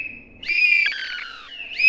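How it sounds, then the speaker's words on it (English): Nose whistles blown by kids give a thin, high, steady whistle with a pitch bend and a wavering, warbling middle stretch, rising again at the end, fairly loud and with no talk. "kids were whistling through their noses."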